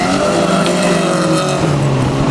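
Peugeot race cars in a Fol'car race at La Pernelle roar loudly and continuously, engines straining close by.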